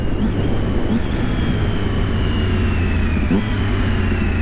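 A 2.4-litre racing V8 screams steadily at around 18,000 rpm, high-pitched, with brief pitch dips between gear shifts, loud and continuous throughout.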